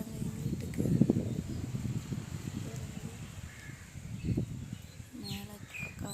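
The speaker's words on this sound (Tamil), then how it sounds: "காக்கா வந்துக்கிறாங்க எங்கள் வீட்டுக்கு" Crows caw around a house in a few short, rough bursts over a murmuring background, with someone talking nearby.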